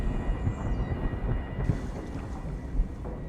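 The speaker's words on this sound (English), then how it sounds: "Underwater thunder." Low, continuous underwater thunder rumble in the video game Soma, a dense deep roar with faint watery texture, steady and fairly loud throughout with no voices.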